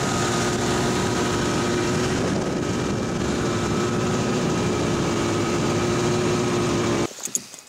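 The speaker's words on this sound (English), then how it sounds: "The mixture is not where it's supposed to be. It's bogging out at mid-throttle." An engine drones steadily at mid-throttle on a winter camping trip, running rough and bogging with the fuel mixture set wrong; the loud, continuous low rumble fills most of the clip, then cuts out abruptly near the end.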